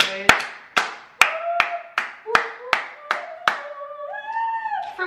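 Loud, sharp hand claps, about eight evenly spaced strikes in a steady rhythm, close to the microphone, followed by a short burst of voice at the end.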